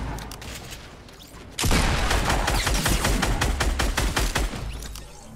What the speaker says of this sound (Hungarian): Brutál ez a gránátvető, hallod?